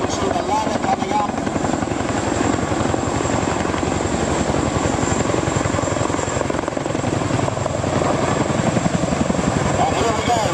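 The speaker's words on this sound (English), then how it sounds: "Taking the ropes down on the other helicopter to the left, you can see the ladder coming up." Helicopter hovering overhead during a rescue with a ladder and ropes lowered in hot weather, giving a loud, steady rotor chop and engine roar that fills the whole stretch without pause.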